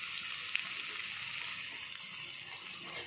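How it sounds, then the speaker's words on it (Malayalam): Sliced onion frying in hot coconut oil over a low flame, a steady soft hiss and crackle of sizzling, fairly quiet and continuous, with no voice over it. "വെളിച്ചെണ്ണ ചൂടായിട്ട് നമുക്ക് ഈ ഉള്ളി ഒന്ന് മൂപ്പിക്കാം കേട്ടോ"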